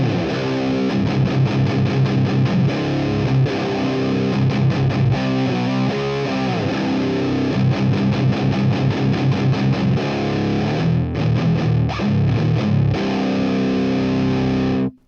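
Distorted electric guitar played through the lead channel of a Crate GX130C amp with all controls at noon, a thick, saturated tone with steady chugging riffs and sustained notes, loud and close, no talk.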